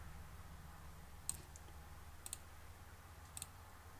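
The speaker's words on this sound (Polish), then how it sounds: "Klikam gdzieś na boku, może być byle jak nazwany." A computer mouse clicks a few times while texturing a car model in ZModeler 1.07b, quiet sharp isolated clicks spaced apart over a low steady hum.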